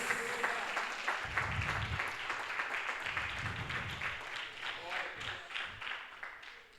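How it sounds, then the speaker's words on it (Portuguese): A church congregation applauds during a Portuguese-language worship service, a broad wash of clapping with cheers and voices mixed in and low rumbling bursts beneath, moderately loud and gradually thinning out. "Então aplauda o Senhor mais uma vez,"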